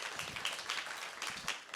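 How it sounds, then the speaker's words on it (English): An audience at a digital public infrastructure summit session gives a round of applause. The clapping is faint and distant, a brief patter of many hands with no speech over it. "Let's give him a round of applause"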